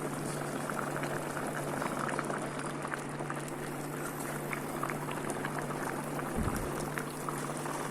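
Chicken curry with potatoes and carrots boiling in a pot, a steady close bubbling and gurgling that continues throughout with a low hum beneath.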